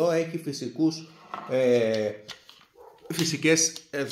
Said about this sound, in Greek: Άκουσα το σκύλο